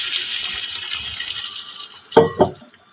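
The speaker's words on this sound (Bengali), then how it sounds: "দিয়ে দেবো জল।" Water is poured into a pan of fish curry with potatoes as it cooks, a soft steady pour followed by two short splashing gulps near the end, close and moderately loud.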